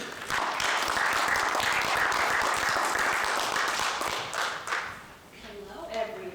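An audience at a civic literacy talk breaks into steady, dense applause for the incoming speaker, sustained for several seconds before tapering off, with a faint voice near the end.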